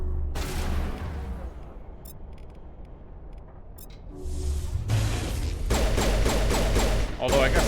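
Gunfire in Mass Effect 3, with scattered shots early on, then a dense, loud stretch of rapid fire and impacts toward the end, with a low rumble underneath.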